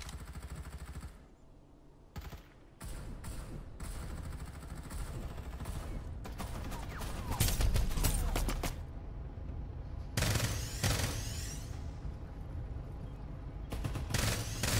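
Artillery barrage in the battle-royale game Farlight 84, a long stretch of dense rapid gunfire and booming impacts, loud and sustained, with brief gaps and bursts of crackling fire.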